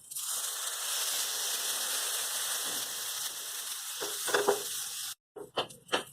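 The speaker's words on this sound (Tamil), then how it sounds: "பாகற்காய் நல்லா வதங்கி வருது இன்னும் கொஞ்சம் நேரம் நல்லா இதை வதக்கி எடுத்துக்கலாம்" Bitter gourd sizzles and crackles steadily as it is stir-fried in a hot pan, a dense close frying hiss with a few scraping stirs near the end, broken by a brief gap before short bursts of sizzling resume.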